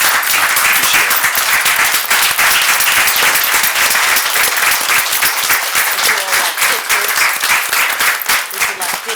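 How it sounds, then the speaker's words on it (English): Sustained loud applause from a crowd at a city council meeting, dense continuous clapping filling the whole stretch, with some voices mixed in. "Let's give them all a round of applause."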